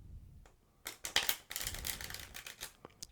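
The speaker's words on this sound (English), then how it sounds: "if I give the deck a riffle shuffle, you guys will agree" Cards riffle together in a fast, crisp flutter, followed by a quick papery shuffle and a few soft taps, quiet and close.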